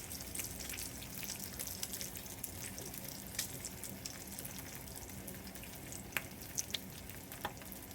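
Bacon fries in a pan at fairly low volume with a steady crackling sizzle, broken by occasional sharper pops and spits.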